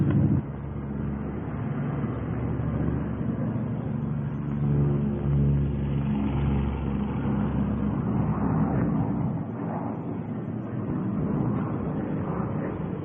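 A steady engine drone from a P-38 Lightning twin-engine airplane flying on one engine, uneven and throaty, holds continuously with wind buffeting the microphone; no voices.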